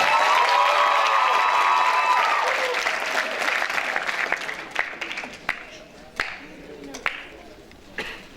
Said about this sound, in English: give them a big round of applause and welcome to the stage